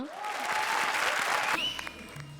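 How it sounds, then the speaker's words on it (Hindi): Loud, sustained applause from a large audience, steady clapping that fills the whole stretch and eases off slightly near the end. "जोरदार तालियां"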